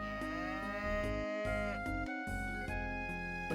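A cow moos in a drawn-out, tonal call with stepped, shifting pitch, steady and fairly loud with no talk over it.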